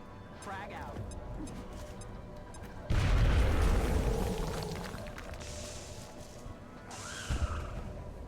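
A grenade explodes in the video game XCOM: Enemy Unknown: a loud, deep boom erupts suddenly and rumbles away over several seconds, with game sounds before and after and someone talking around it.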